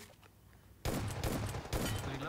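Gunfire in the video game PUBG Mobile: after a quiet start, a sudden loud volley of rapid shots erupts and keeps going in dense bursts to the end.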